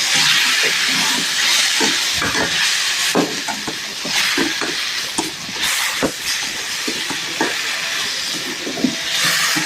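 Curry leaves and mint sauté in hot oil for a vegetable kuruma, giving a loud, continuous sizzling hiss broken by irregular crackles and stirring knocks.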